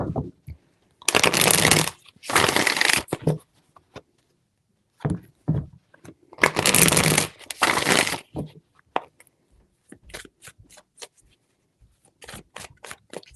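Playing cards riffle-shuffled in bursts for a tarot reading, two long loud shuffles, then shorter ones and a scatter of quick taps and snaps, close up.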